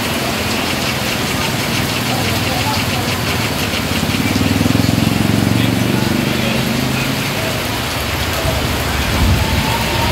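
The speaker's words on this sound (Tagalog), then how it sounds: "kumukulog na" Heavy rain roars loud and steady close by, with a deeper low rumble swelling underneath midway that fits thunder during the downpour.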